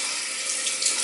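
Cold water streams steadily from a kitchen tap into a sink while salmon is rinsed, a constant close hiss with no talking.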